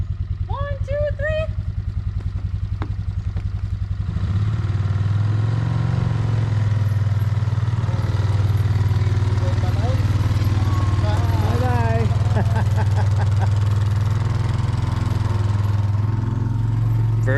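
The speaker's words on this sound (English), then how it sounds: "very first four-wheeler ride around the yard" A four-wheeler ATV idles, then runs steadily around a yard with a loud, even engine drone, while voices talk over it throughout.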